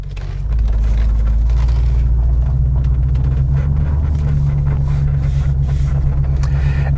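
Supercharged Range Rover driving, with a steady deep engine rumble and low drone running continuously after a brief start, some wind buffeting over it.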